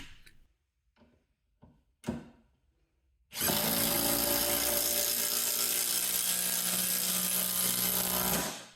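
Ryobi impact driver sinking a lag bolt into hard board, a few faint taps at first, then a loud, sustained hammering rattle that holds steady for about five seconds before cutting off.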